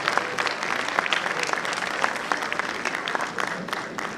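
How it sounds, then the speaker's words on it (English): Steady, dense applause from a large audience at a school annual day function, loud and continuous throughout with no talking over it. "The roaring sound of this applause definitely needs to be substantiated with a floral welcome."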